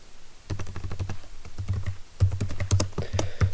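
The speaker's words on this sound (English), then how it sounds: "So I will type Ubuntu" Rapid typing on a computer keyboard while entering a name during an Ubuntu 14.04 Server setup in VirtualBox, a close, steady patter of clicky keystrokes with brief pauses between bursts.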